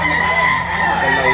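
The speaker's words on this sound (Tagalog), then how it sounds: "Gandang manok." A rooster in a market setting crows loudly and close, a sustained strained call with a harsh, buzzy tone filling the short clip.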